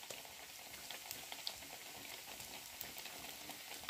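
Vada dough frying in hot oil, a dense continuous bubbling sizzle with scattered small crackles and pops, close and fairly quiet, with no talking.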